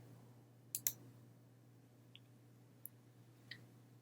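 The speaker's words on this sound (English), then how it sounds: "we will place our mouse over the Folder option and click the left mouse button" Two quick, faint clicks of a left computer mouse button come close together in a quiet room over a low steady hum, then a few fainter ticks follow.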